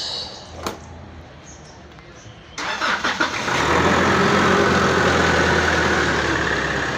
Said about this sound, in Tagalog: Umandar na mga boss eh.